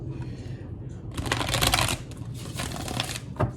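Tarot cards are shuffled by hand in quiet bursts of papery riffling and flicking, swelling louder mid-way and then continuing more softly.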